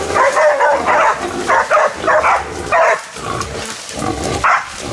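Pig hunting dogs bark and yip loudly in repeated bursts during an outdoor hunt in Australia, the barking steady and close with brief pauses between volleys.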